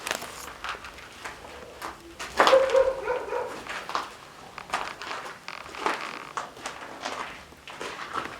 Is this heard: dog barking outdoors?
yes